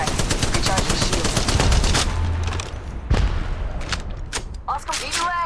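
Rapid automatic gunfire bursts crackle in Apex Legends Mobile during a Lightning Battle match, with dense overlapping shots, a couple of heavier booms and brief pauses between volleys.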